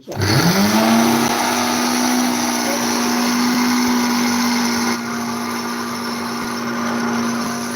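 An electric mixer grinder spins up and runs at high speed grinding tea masala spices, a loud steady whine that holds unbroken with a slight dip near the end.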